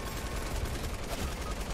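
Light machine gun fire in Fortnite, a dense continuous rattle of automatic shots with no clear pauses, at a steady moderate level throughout.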